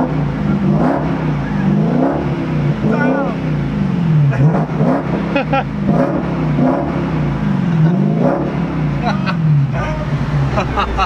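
A Dodge Hellcat engine runs and revs with a steady low rumble and rising whines, heard close up inside the car while several people talk excitedly over it.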